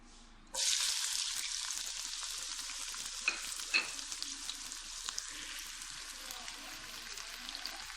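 Finely chopped chillies and tomatoes hit hot oil with a sudden loud sizzle after a brief quiet start, then keep up a steady, bright frying hiss with a few sharp spits and pops, close up and without talk.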